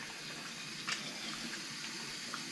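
A bathroom tap runs in a steady hiss while hands are washed, close and even in level, with a faint splash partway through and no voices.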